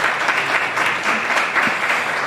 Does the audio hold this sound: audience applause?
yes